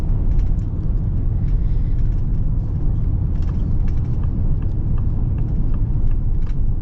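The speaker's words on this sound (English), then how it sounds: "You actually get a surprising amount of tire noise, believe it or not." Steady road and tire roar inside a 2025 Ford Bronco Sport Heritage Edition while driving, a continuous low rumble with a constant hiss on top and no talking.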